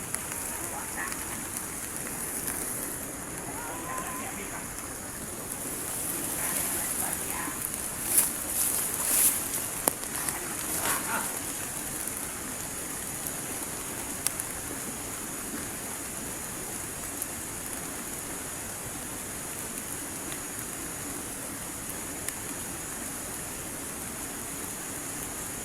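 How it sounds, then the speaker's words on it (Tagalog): Rain falls outdoors in a steady, even hiss with scattered drops tapping on surfaces, and the downpour swells briefly before settling back to a constant wash. "nabutan na tayo ng ulan"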